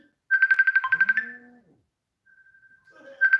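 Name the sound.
phone ringtone of an incoming call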